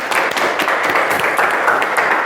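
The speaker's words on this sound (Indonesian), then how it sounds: "Oke, luar biasa sekali, tepuk tangan ya." A school class claps for a student, a short burst of brisk, close, fairly loud hand clapping lasting a couple of seconds.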